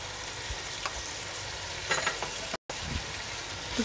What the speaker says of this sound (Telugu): పసుపు వేసి తిప్పుకున్నాం. ఇప్పుడు అల్లం వెల్లుల్లి పేస్ట్ మొత్తం ఎంత పట్టిద్దో దీనికి అంత వేసేసుకున్నాము.